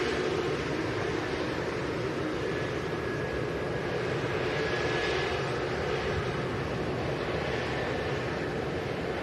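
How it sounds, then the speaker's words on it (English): Airbus A380 jet departing, a broad steady engine roar with a faint whine, moderately distant and constant throughout with no talk. "Let's stick with the A380, which is just leaving"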